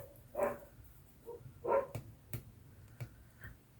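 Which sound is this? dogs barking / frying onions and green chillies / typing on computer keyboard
dogs barking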